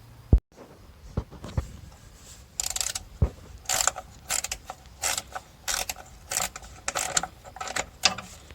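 A ratchet wrench loosens the two half-inch starter bolts under a Fox Body Mustang, with quick bursts of rapid clicking repeated in steady strokes, close and clear, separated by brief pauses and a few metallic knocks.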